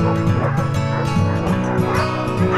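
A pack of sled dogs barks and yips loudly and continuously, many overlapping excited voices close by, outdoors during conditioning runs.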